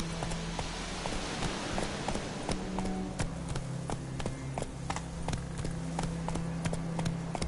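Video game horse Roach galloping, a steady run of clip-clop hoofbeats close by with a low rumble underneath, going on throughout without talk.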